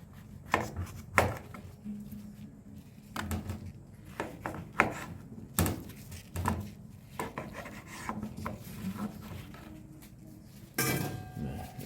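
A knife slices neungi mushroom lengthwise into large chunks on a cutting board, making a series of irregular close, crisp cuts with rubbing and scraping between them.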